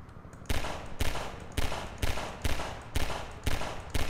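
Shots ring out in the game Half-Life 2, eight loud sharp reports about half a second apart, evenly spaced, each with a short tail, over a low background.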